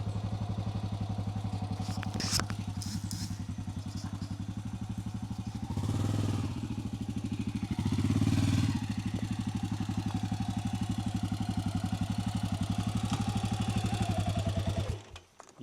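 A 1988 Yamaha Ténéré motorcycle riding through Amazon forest, its mid-pitched engine droning steadily with a couple of louder revving swells and clattering bumps before cutting off abruptly at the end.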